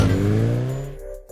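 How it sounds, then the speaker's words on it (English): Bajaj V15 150cc motorcycle exhaust under an opened throttle, a loud, deep, bassy engine drone that rises steadily in pitch, then cuts off abruptly near the end. "The exhaust note is meaty, deep-throated and quite bassy for a 150cc bike"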